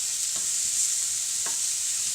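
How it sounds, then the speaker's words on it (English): Tomatoes, mushrooms and a small red sweet pepper fry in a pan with a steady bright sizzle, broken by a couple of brief stirring scrapes. "I've just added my tomatoes, my mushrooms and my little red sweet pepper. I'm just going to cook those through for a couple of minutes."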